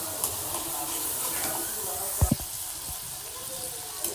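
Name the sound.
puti fish added to fried spices, sizzling in the pan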